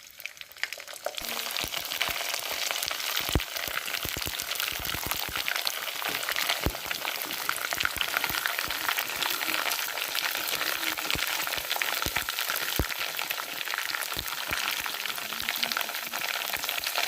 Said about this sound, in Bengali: বাকি ভাতগুলো এভাবে ভাজি করে নিব।